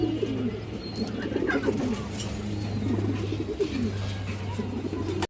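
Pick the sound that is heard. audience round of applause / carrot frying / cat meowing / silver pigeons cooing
silver pigeons cooing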